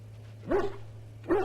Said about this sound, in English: There he is. There's my dog.